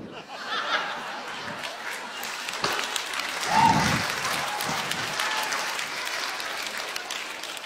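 An audience at a talent show claps, a broad sustained wash of applause swelling midway, with some chuckles and laughter mixed in.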